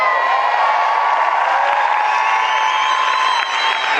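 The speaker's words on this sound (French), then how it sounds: "Je voudrais qu'on l'applaudisse très fort." A comedy show audience in France claps and cheers loudly, a sustained wall of applause with whoops and crowd noise filling the whole few seconds.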